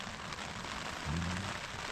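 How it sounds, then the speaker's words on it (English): Soft, steady patter of rain drums on a tent during a solo wild camp in Snowdonia's Glyderau, a faint continuous hiss with a slight swell near the end. "It sounds like, based on the rain on the tent, like it's trying to snow."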